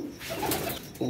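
Pet pigeons kept in breeding pairs cooing nearby, a single soft, low throaty coo lasting about a second.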